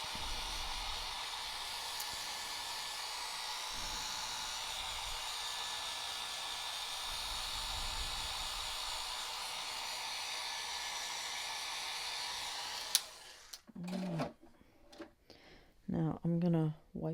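A heat tool blowing steadily over walnut ink on paper, a loud even hiss that runs for about thirteen seconds, then cuts off sharply, followed by a few clicks and brief handling noises.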